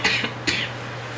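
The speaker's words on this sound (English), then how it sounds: "Because I was clearing my throat and then you start coughing." Two sharp coughs from a person indoors, close to the microphone, the first a quick double burst and the second a single hack, followed by quiet hum.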